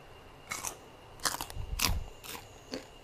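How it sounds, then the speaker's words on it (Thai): Crispy fried pork rinds being crunched, four or five sharp brittle crackles spaced apart, close up and fairly quiet against a hushed background, no talk. "นี่ค่ะฟังเสียงกรอบก่อนนะคะ"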